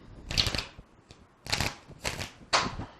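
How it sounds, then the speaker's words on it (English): Tarot cards are shuffled by hand close up, in four or five crisp riffling bursts separated by short pauses, with no talking. "I'm mixing the cards around, turning some upside down, and I'll shuffle"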